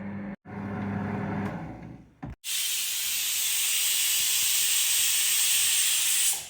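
A pressure cooker on a home kitchen stove vents steam in a loud, steady hiss that runs unbroken for several seconds after a short burst of other kitchen noise.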